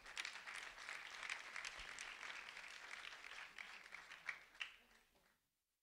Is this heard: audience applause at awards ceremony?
yes